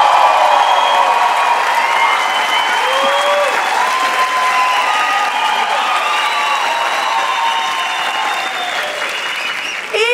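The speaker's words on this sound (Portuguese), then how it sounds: "Com vocês, palmas para Flávio Andrade!" Loud, sustained applause from a stand-up comedy audience, with whoops and cheers rising over dense clapping for about ten seconds and easing slightly near the end.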